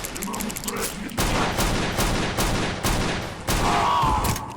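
Enemy gunfire in the shooter game CountryCide crackles in loud, rapid bursts of repeated shots, near and sustained, with a short quieter gap before the volleys begin and again near the end.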